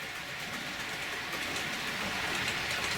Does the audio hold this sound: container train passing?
yes